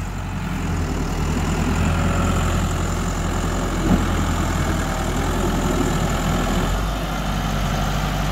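Massey Ferguson 385 tractor engine running steadily at idle, a loud continuous low diesel rumble that carries on unchanged throughout with no talk.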